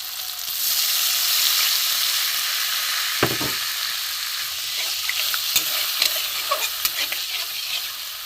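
Tilapia curry gravy bubbles and sizzles in a pan, a steady bright hiss of hot oil and liquid with occasional stirring clinks and pops, heard alone.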